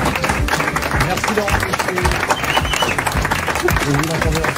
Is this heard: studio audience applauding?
yes